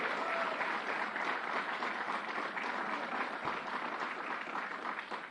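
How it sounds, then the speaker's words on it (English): An audience applauds Hazel Dukes at a gun violence emergency announcement in New York, a steady, dense wash of many hands clapping that continues evenly for several seconds. "Let's give Hazel a round of applause"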